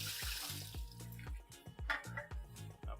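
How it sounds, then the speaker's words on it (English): A kitchen tray is rinsed under a running tap: close, steady gushing and splashing water with small irregular spatters for a few seconds. "so we're going to give this a rinse off"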